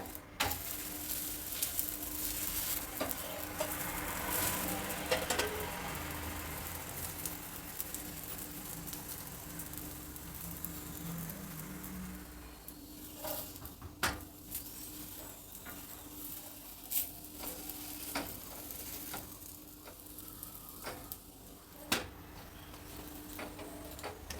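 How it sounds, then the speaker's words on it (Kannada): Rava paratha cooking with oil on a pan, a soft steady sizzle running throughout with faint scraping and occasional light ticks from the spatula. "ನಾನು ಎಣ್ಣೆ ಹಚ್ಚಿ ಬೇಯಿಸ್ತಾ ಇದ್ದೀನಿ"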